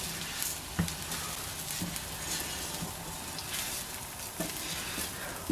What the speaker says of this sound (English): So we'll just stir this round now